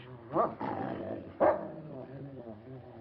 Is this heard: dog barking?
yes